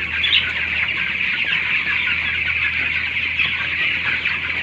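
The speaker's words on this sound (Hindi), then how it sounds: "देखिए कितने मुर्गी के बच्चे हैं," Domestic chicken chicks on a poultry farm peep and cheep continuously, a dense chorus of high chirps close by over a steady low hum, with no pauses.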